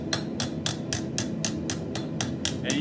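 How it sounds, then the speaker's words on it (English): A raising hammer shapes a soft copper bowl over a block, giving about ten sharp metallic strikes in a steady, even rhythm with a constant low room hum beneath. "I'm just kind of working the outside all the way around with this raising hammer."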